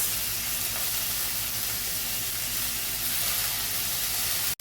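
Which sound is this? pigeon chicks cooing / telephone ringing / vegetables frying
vegetables frying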